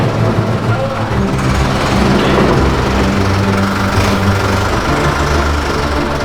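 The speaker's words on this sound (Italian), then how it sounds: "Eccolo col trattore che arriva, inizia a caricare." A tractor rolls up to load harvested wheat on a farm, its engine a steady, loud, vibrating drone that stays close for the whole clip.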